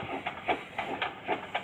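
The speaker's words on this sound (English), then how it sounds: "Touch the green button to make the train go." Cartoon train starting to move in a Peppa Pig video game, a quiet rhythmic chuffing of evenly spaced puffs, about seven in under two seconds, with no talk.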